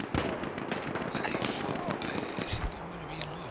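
A Lebel Model 1889 rifle fires in Battlefield 1, giving several sharp cracks against a busy battlefield background of other distant shots and blasts.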